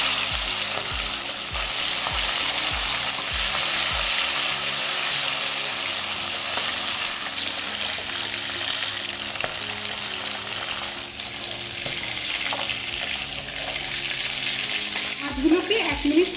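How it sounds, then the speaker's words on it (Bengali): Prawns fry in hot mustard oil with a loud, continuous sizzle and crackle close by. Occasional clinks and scrapes of stirring run underneath, and a few sharper spatters come near the end. "তেলটা গরম হয়ে এসছে, এবার আমি মাছগুলোকে একসাথে তেলে দিয়ে দিচ্ছি"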